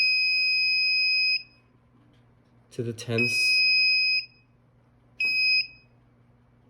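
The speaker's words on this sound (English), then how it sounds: "is when the buzzer goes off" Piercing electronic beeps from an Arduino buzzer triggered by an ultrasonic sensor, a long steady tone, then another after a pause and a shorter third burst, close and loud, with someone speaking between them.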